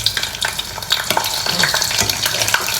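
A small sausage sizzles and crackles as it heats in a pan, with busy popping and spattering over steady frying noise and no voices.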